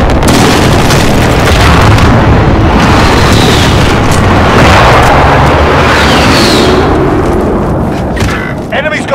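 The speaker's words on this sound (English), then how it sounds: "An airstrike. Take cover." Airstrike explosions in Call of Duty: Modern Warfare, a loud sustained roar of blasts and rumbling booms filling the whole stretch, with faint voice callouts mixed in.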